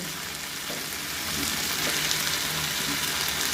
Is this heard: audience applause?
no